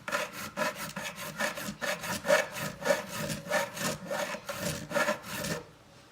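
A crowning file works the frets of an Ibanez GiO guitar after levelling, scraping in quick, even back-and-forth strokes, about twenty rasping passes close up, with no talking.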